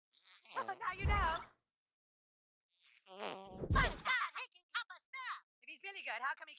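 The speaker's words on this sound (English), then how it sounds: "What is the sound of one anus farting?" Cartoon fart sound effects in the South Park: The Stick of Truth video game, two loud wet bursts separated by a pause, then a shorter squeaky burst.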